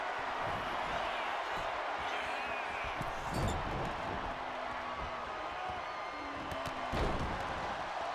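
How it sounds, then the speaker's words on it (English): Heavy impact of a double stomp in the WWE 2K25 wrestling video game, two thuds landing over a steady arena crowd roar with commentary talk throughout. "Oh, a huge double stomp to the core."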